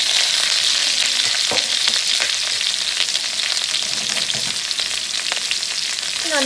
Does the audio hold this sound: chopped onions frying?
yes